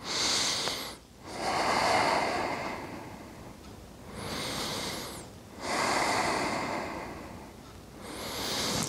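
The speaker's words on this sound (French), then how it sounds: "Allez, inspire, expire." Slow, deep breaths during a yoga shoulder stand: three long, loud nasal inhales and exhales close to the microphone, separated by brief quiet gaps, with no talk.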